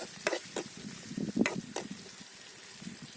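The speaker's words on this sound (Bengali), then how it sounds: "এখন আমরা কড়াইতে তেলের গরম তেলের মধ্যে এই যে পেঁয়াজ কুচি আর এই যে রসুন কুচি দিয়ে দিলাম একটু নেড়ে ছেড়ে দিলাম" Chopped onion and garlic stirred in hot oil in a kadai over a wood fire on a boat in the Sundarbans: a handful of quick scraping stirs over a soft sizzle, close and fairly quiet, with no speech.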